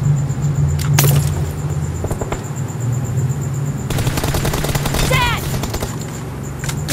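Tommy gun bursts in PUBG Mobile, with dense rapid volleys of automatic fire around one second and again from four to six seconds over a steady game-engine hum, with some faint voice chatter mixed in.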